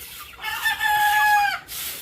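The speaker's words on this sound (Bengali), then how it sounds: "দেখেন আমাদের মুরগিগুলো বাইরেও বেশিরভাগই বাইরে আছে মুরগি" A Sonali breed chicken on a laying farm lets out one loud, drawn-out crow, close by and on its own, followed by a brief softer call.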